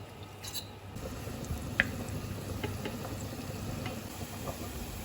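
Garlic heats slowly in olive oil in a pan, giving a faint, steady low sizzle with occasional tiny pops and drips, quiet and close, with no talking.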